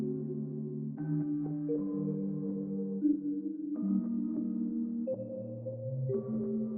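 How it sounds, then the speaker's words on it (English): Synth bell chords from Multi-Keys, each chord strummed with its notes slightly offset, changing about every second, soft and clean with ringing tones in a dark atmospheric style. "we're adding in this bell here and just playing these chords again, except I'm strumming these notes and offsetting them a little bit"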